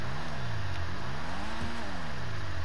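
A Volkswagen Golf GTI Mk1 engine in the video game GTA 5 revs up and down in several smooth sweeps, loud and close, with no talk over it.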